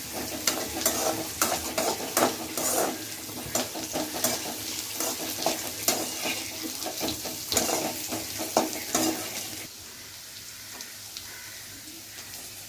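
Pirandai (adamant creeper) sautés with tamarind in a pan as a spatula stirs in a steady run of rhythmic scrapes and light sizzling, then falls quiet near the end.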